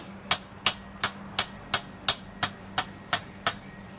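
Metal rods are hammered into garden soil to support a hydrangea: ten sharp, evenly spaced strikes land at a steady rhythm, loud and close against a quiet outdoor background.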